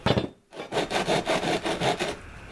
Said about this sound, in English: some sandpaper down, maybe a bunch of different ones, and we'll work that out